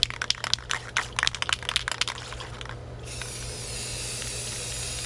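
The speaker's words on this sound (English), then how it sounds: "I'm just gonna spray it nice and solid." A clear matte spray coat goes onto a water slide sheet as a run of short, sharp spray bursts and rattles that turns into one continuous close hiss.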